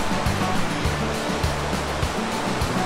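A river flows between rock walls in a canyon in Zion National Park, heard as a steady, loud broadband rush of water close by with a low churning undertone and no voices.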